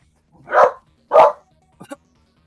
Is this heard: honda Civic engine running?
no